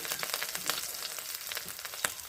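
Ginger paste fries in a hot pan with curry leaves, a dense continuous sizzle punctuated by quick crackles and faint stirring scrapes.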